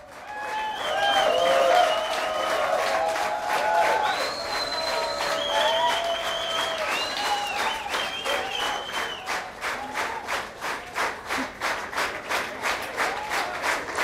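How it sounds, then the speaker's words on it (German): A crowd in Bremen cheers and applauds for Elisabeth Motschmann on election night. Loud sustained clapping comes with whistles and shouts early on, then settles into rhythmic unison clapping toward the end. "Ja, der Jubel in Bremen für Elisabeth Motschmann nimmt kaum ein Ende."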